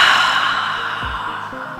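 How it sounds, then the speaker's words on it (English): A loud, drawn-out breath exhaled forcefully during a power yoga session, a continuous breathy rush that slowly fades over nearly two seconds, close to the microphone with no talking. "Last one on this exhale. I want to hear it."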